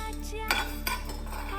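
A metal pan set down onto a gas stove, two short clanks a moment apart over a low steady hum, no talking.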